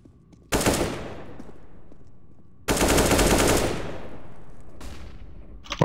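Bursts of Tec-9 pistol fire in Counter-Strike on the Overpass map: two long, loud, rapid volleys of shots close by, with a third shorter burst near the end and no talking.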